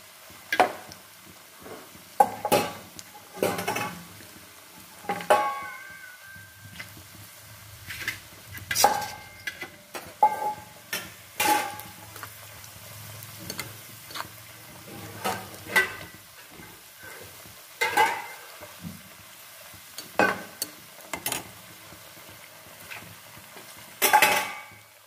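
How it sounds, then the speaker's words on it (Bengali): Carrots frying in hot oil in a wok while being stirred with a utensil, giving repeated clinks and scrapes of metal on the pan over a soft low sizzle, close and fairly busy, with no talking. "তেলটা গরম হলেই একটু একটু করে ভেজে নেব আমি বিনস আর গাজরটাকে"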